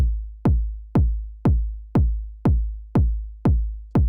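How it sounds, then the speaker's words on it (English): Four-on-the-floor kick drum from a Pocket Operator sequencer, nine punchy booming hits at an even steady tempo, each with a long decaying low tail, alone with no other sounds. "So the downbeat of beat 1, 2, 3, and 4 all have a kick drum on them"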